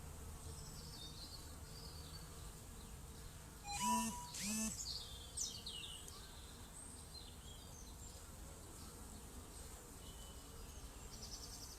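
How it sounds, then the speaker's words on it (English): A steady low hum of many bees buzzing continuously around a hive in a garden, with a few louder passes from individual bees flying close by. "we can watch the bees going in and out"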